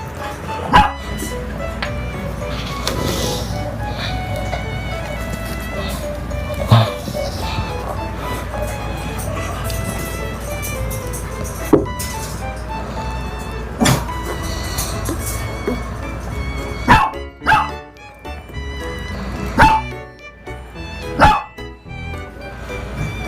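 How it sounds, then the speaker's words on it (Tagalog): Puppies bark and yip in a series of scattered sharp bursts over a steady background hum, some nearby and loud, others fainter, with occasional voices in between. "yung update natin sa mga alaga nating puppies ngayon"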